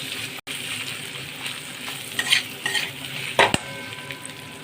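Chilli powder is stirred into winter vegetables cooking in a pan: a steady sizzle with spoon scrapes and clinks against the pan, a few louder clatters, and a brief sharp knock.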